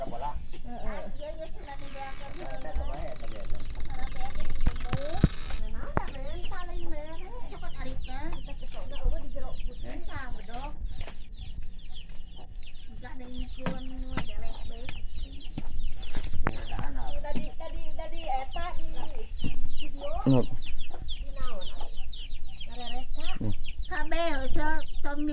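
Chickens cluck repeatedly through a farmyard scene, close and steady, while people talk over them in a relaxed conversation; the fowl calls rise and fall beneath the voices throughout.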